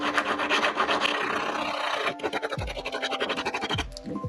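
A diamond-coated file rasps back and forth across a steel chisel in both directions, a steady close scraping with quick strokes that turn into a sharper, distinct rhythm toward the end.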